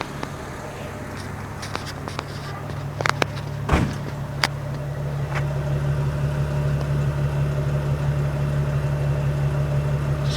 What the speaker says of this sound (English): Let's go back here so you can listen to the exhaust on it.